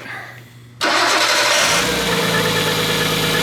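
An RB car engine cranks and catches with a sudden loud roar, then settles into a steady running rumble.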